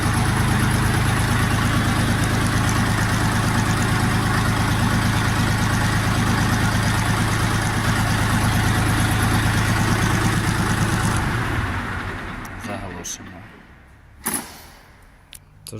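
A Dongfeng DF-244 mini tractor's diesel engine runs steadily and loudly with a low, throbbing idle, then cuts off, leaving a few faint clicks and knocks.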